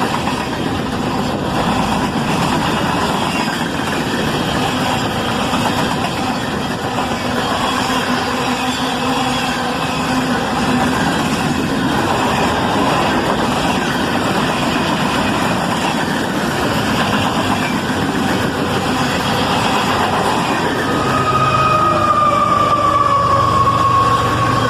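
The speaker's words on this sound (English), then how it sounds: "listen to that third locomotive as it screams by" A CSX freight train hauled by GE ES44AC-type locomotives with distributed power roars past at speed, a loud continuous rumble of diesel engines and rolling wagons close by, a rising whine from a third locomotive near the end.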